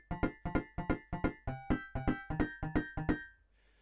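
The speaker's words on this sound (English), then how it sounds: "they've prepared it by putting some mutes inside it that completely deaden the sound" Piano prepared with mutes inside, played as a sample in Ableton Live: a dull, deadened repeated note pattern of about a dozen evenly spaced plucky hits, close and clear, then a short decay to silence.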